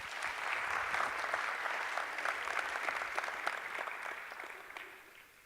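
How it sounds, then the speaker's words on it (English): A conference audience at Unbound Bahrain applauds warmly to welcome the CEO of Bahrain EDB, continuous clapping that builds, sustains for several seconds and fades out. "Please give him a round of applause."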